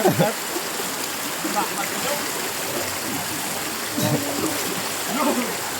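Strong river water rushes and splashes steadily with a broad hiss, with occasional voices shouting faintly in the background.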